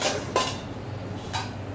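Two sharp metallic clinks of a utensil against a pan while prawns are stirred on the stove, the first loud and the second softer about a second later, over a low background hiss.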